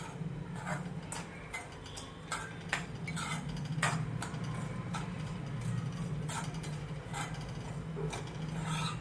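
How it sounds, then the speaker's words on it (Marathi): Sugar and semolina (rava) being stirred together in a pan for mango sheera, giving steady scraping and clinking of a spoon against metal with repeated light ticks throughout, close and moderately loud. "सगळं आपण मिक्स करून घेऊया साखर आणि रवा"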